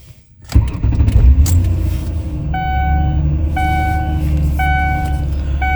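A cold car engine fitted with a brand new throttle body and TP sensor cranks briefly and catches, then settles into a loud, steady idle close by while a repeating electronic chime sounds over it, with no speech.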